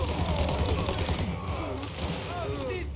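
Rapid bursts of gunfire in the video game Mafia Definitive Edition, loud and continuous, with overlapping shots crackling throughout and a voice faintly present beneath.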